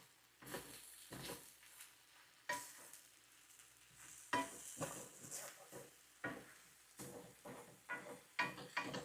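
Food for a vegan gumbo with shrimp and sausage frying in a pan, soft sizzling under repeated stirring and scraping bursts with clatter of utensils against the pan, close and fairly quiet.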